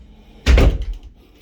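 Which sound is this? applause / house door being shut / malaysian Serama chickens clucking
house door being shut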